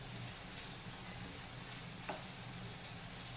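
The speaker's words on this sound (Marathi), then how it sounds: "आणि एकदा आपण कलेजी परतून घेणार आहोत" Chicken liver (kaleji) sautéing in a pan, producing a quiet, steady frying hiss with a few soft stirring ticks and no talk.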